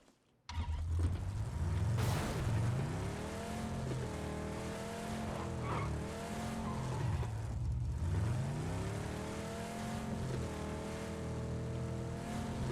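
Car engine in the PUBG video game, revving loudly and repeatedly, its pitch rising and falling through gear changes over a sustained drive with no talk.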